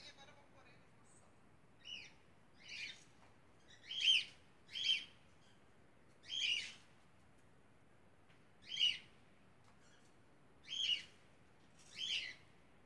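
Pet birds give short, bright chirps in a quiet room, about eight evenly spaced calls that sound fairly faint and close by, with nothing else heard between them.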